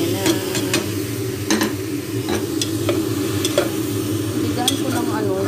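Milkfish simmering in a pot for a sour fish soup, with steady bubbling and a few light clinks and scrapes of a spoon stirring, close and continuous.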